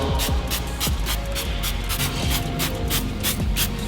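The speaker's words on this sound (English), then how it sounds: "So what we'll do is we'll spray this on." Rapid bursts of a trigger spray bottle hiss close by in a quick repeated rhythm, about a dozen pumps over a few seconds, spraying gel-like wheel cleaner onto the rims of a ceramic-coated car.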